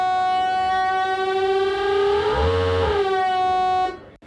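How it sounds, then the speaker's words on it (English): Minilogue XD synthesizer holds a steady buzzy tone as oscillator cross modulation increases, the pitch bending and warbling into a rough, fast-wobbling growl midway before settling, then cutting off abruptly; loud and close with no talking. "And if I increase the cross mod here, the frequency modulation,"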